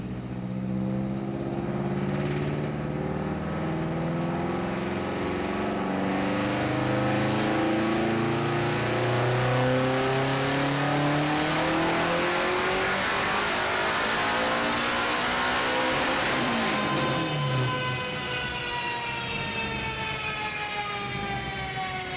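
A high-output car making about 531 wheel horsepower revs hard on a dyno, the engine tone sweeping steadily upward through the gears, loud and close, with no one talking.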